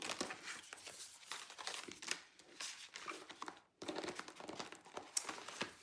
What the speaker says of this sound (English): And I'll just shuffle them up and I'll kind of separate them.